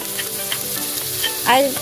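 Pork and potato pieces fry loudly and close in hot cooking oil for kaldereta, a dense continuous sizzle with crackles and a brief scrape of stirring near the end.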